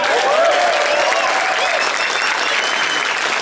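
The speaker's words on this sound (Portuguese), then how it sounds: "Por favor, uma salva de palmas" Concert audience applauding a guest guitarist in a store performance, steady dense clapping from a crowd that fills the whole stretch at constant loudness.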